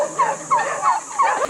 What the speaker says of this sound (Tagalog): Look at the turkeys. Pabo. This is pabo.